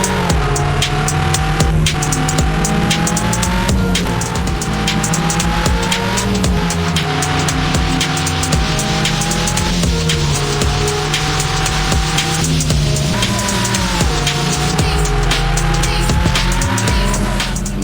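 Loud, continuous car engine from a mobile drifting video game on Android, rising and falling with rev changes while tires squeal and skid in bursts throughout, with no talking.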